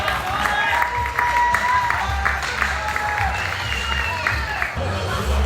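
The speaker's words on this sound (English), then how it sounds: "the Oyang fan club's out tonight, cheering that nice effort by Mr. Oyang" A crowd at a junior hockey game, Oklahoma City Oil Kings against the KC Stars, applauding and cheering steadily throughout, with commentary over the noise.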